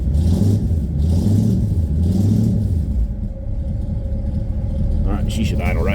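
Car engine running with a homemade dual exhaust, a steady low rumble that stays loud and continuous throughout, with voices talking over it.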